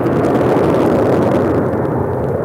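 Airliner roaring down the runway on takeoff at LAX, a loud, continuous broadband jet rumble close by that holds steady for the whole stretch; no talking.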